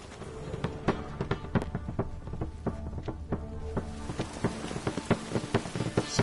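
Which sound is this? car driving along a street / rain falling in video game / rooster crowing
rain falling in video game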